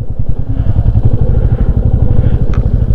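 A motorcycle engine idles and rumbles close by, steady and loud throughout, while the bike is brought to a stop and parked at a small monastery village in Spiti, with a brief clatter near the end.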